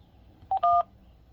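Two short telephone keypad tones sound in quick succession, a brief beep then a longer one, as a button is pressed during an automated phone survey, over faint line hiss.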